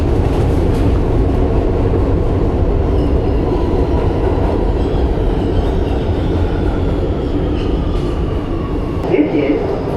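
A Brooklyn-bound A Express train on the New York City subway rumbles along at speed, a loud, continuous low roar of wheels and car noise with a brief metallic squeal near the end.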